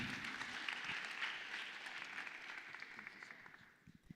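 An audience at a generative-AI event opening ceremony applauds to welcome a speaker to the stage, soft and somewhat distant clapping that tapers into scattered final claps.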